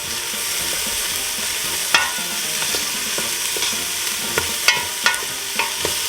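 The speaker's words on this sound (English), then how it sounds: "I'm going to cook my onions till they're translucent." Onions fry in a pan with a steady close sizzle, while a utensil stirs and scrapes them in several sharp, irregular clacks and scrapes over the continuous frying hiss.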